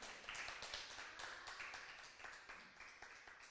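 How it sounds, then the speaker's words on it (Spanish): Church congregation applauding, a dense, steady wash of many hands clapping close by that holds throughout and tapers slightly toward the end, with no talking over it. "¿Cuánto le dan un aplauso al Señor?"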